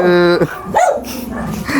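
A dog barks loudly and close by with a few sharp barks and growly yelps, and a voice is faintly present around it.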